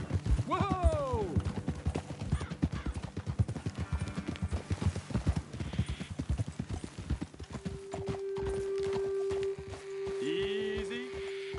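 Horses walk and clop over ground in Red Dead Redemption 2, a western video game, their hooves striking in a steady close rhythm. A neigh comes early, a held tone follows later, and someone speaks over parts of it.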